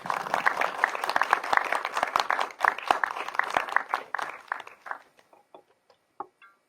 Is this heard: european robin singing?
no